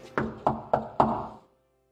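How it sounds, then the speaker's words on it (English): Four firm knocks land on a door at an even, unhurried pace, each a hollow thud that rings out briefly before fading to silence, close and clear with no voices. "getting ready to knock on his door"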